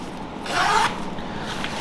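A single quick raincoat zipper pull, a short rasping zip lasting under half a second, close by in a quiet room.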